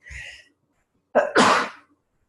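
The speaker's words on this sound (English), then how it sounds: "I've got to sneeze." A single sneeze: a short sharp inhale, a pause, then a loud explosive burst, close to the microphone in an otherwise quiet room.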